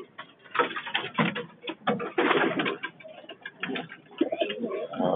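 Racing pigeons cooing inside a loft, several birds close by with overlapping throaty coos and soft rolling calls, some light fluttering and shuffling mixed in, no one speaking.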